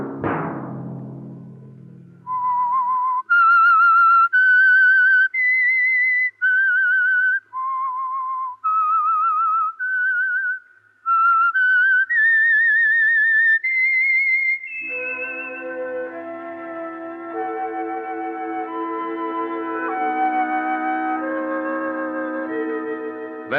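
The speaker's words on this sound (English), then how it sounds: "Let that whistle be your signal for the Signal Oil program, The Whistler" A lone whistled melody from an old-time 1944 radio mystery theme rises and falls in sustained, slightly wavering notes, followed by an orchestral chord passage swelling underneath, loud and clear.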